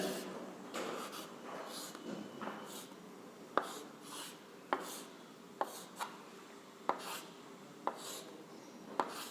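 Chalk taps and scrapes against a classroom board as a unit cell is sketched, a run of sharp clicks and short scratchy strokes spaced a second or so apart, close and fairly quiet with room hush behind.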